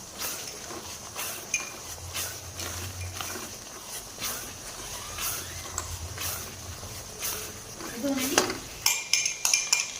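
A spoon scrapes and clinks against a pan as moong dal halwa with cardamom powder is roasted, a steady run of close metallic scrapes that grow louder and sharper near the end.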